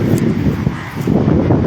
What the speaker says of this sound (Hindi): और अभी भी हवा चल रही